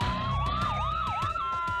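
An ambulance siren in the Emergency Room: Heroic Measures game wails loud and steady, with a rising-and-falling yelp pattern layered over a sustained tone, alone and without talk.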